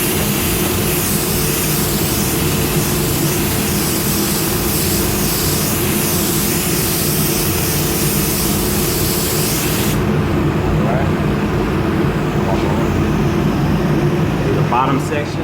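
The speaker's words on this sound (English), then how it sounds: "Here I like spraying at real low pressure to where you're not blowing any of that tape up." A spray gun runs at low pressure while painting a custom peanut tank during a restore, giving a continuous loud hiss that cuts off near the end, followed by faint handling noises.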